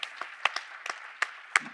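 Sparse audience clapping at a cultural conference in San Luis Potosí, a handful of scattered claps spread over a moment, fairly faint and without cheering.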